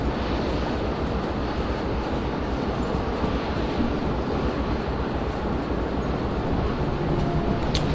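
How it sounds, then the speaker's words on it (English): A train coasting in the Derail Valley simulation game, a heavy continuous low rumble of rolling wheels and running gear that stays loud and steady throughout, with a faint click near the end. "I'm just gonna let the train coast."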